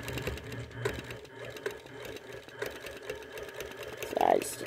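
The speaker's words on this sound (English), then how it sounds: "So I need to stitch down this line." A domestic sewing machine stitches down a line on a quilt's floating border, running in soft, uneven bursts of whirring under a person's nearby talk.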